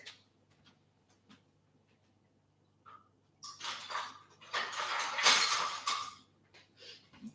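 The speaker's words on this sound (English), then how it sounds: "I'm going to grab a whisk." Dry ingredients whisked in a bowl for a brown sugar pear cake, light ticks at first, then a few seconds of brisk scraping and rattling, close and moderately loud before trailing off.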